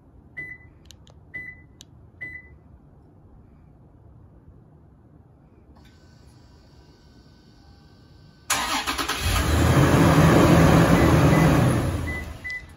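Toyota 4Runner remote-started with its OEM key fob: a few faint beeps, then a chime, then the engine cranks and catches into a loud, steady idle.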